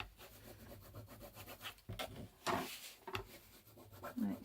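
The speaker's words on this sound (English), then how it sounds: "Okay, so again, I'm just going to do a quick burnish along here." Fabric washi tape being burnished by hand against a crafting mat, giving soft, uneven rubbing and scraping strokes with a few sharper swipes, close and fairly quiet with no talking.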